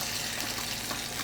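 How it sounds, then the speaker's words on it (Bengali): Cooking oil poured into a frying pan, a steady liquid gush that runs unbroken and at an even level for its whole short length. "তারপর এখানে হচ্ছে আমি আরেকটু তেল ঢেলে দেবো"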